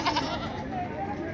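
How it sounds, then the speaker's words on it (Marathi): Goats tied up at the Jalna livestock market bleat briefly and nasally in the background while people talk close by over the crowd's murmur. "इकडे पलीकडच्या कोपऱ्यात पण शेळ्या बांधलेल्या होत्या"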